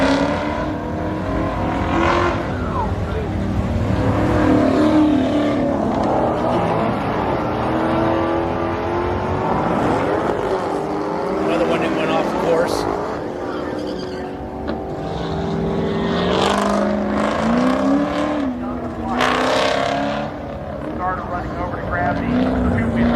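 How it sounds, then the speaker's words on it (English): A Chevrolet Chevelle runs the autocross course at LS Fest East, its engine revving up and down through repeated rising and falling sweeps as it works around the track, with people talking over the engine noise. "For you Chevelle guys, here's a Chevelle running the autocross track"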